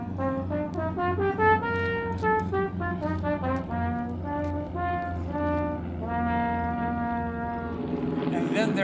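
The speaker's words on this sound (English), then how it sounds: "An F alto trumpet, and it sounds like this." An F alto trumpet plays a short melodic phrase of sustained and moving notes, loud and close, with other brass playing alongside in an outdoor park concert setting.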